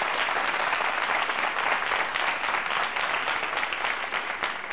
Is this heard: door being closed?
no